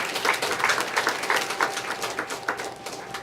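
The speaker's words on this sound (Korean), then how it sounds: "우리 하나님 앞에 다시 영광의 박수 올리겠습니다" Church congregation clapping together in rhythmic unison during a worship service, a steady run of sharp, even claps filling the room, moderately loud with no voices.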